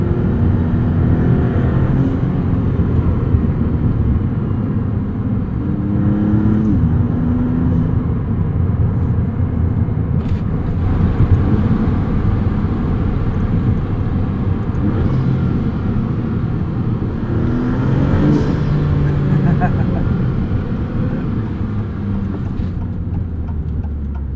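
A 2022 Maserati MC20 supercar drives along with a steady engine drone and low road rumble heard from inside the cabin, a few small shifts in pitch as it accelerates, no talking.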